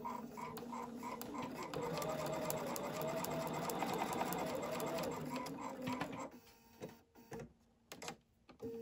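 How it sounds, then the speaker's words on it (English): A home sewing machine stitches a quarter-inch seam on bandana fabric for a patriotic placemat. It runs in a steady, close whir for about six seconds, then stops, leaving a few light clicks and handling noises. "then I'm going to sew it again using 1/4 inch seam allowance."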